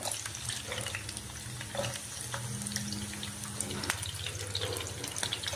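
Chopped onion and capsicum petals frying in hot oil in a pan on the stove for veg kadai, a steady close sizzle with watery crackle and faint stirring, no voices.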